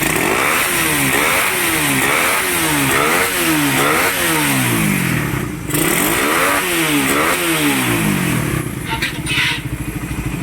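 A freshly rebuilt motorcycle engine revs repeatedly in rising and falling surges, loud and close, settling toward a rough idle near the end.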